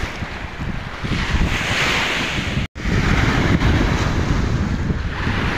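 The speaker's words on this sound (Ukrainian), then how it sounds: "Волни капець." Strong sea waves crash steadily along the Ukrainian coast while heavy wind buffets the microphone, a loud continuous roar of surf broken by one brief dropout partway through.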